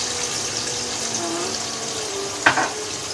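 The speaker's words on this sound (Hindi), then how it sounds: "मैं 1 गिलास के करीब ही पानी डालूंगी" Water runs in a steady, hissing pour into a cooking pot of mutton stew, about a glassful, ending with a brief splash near the close.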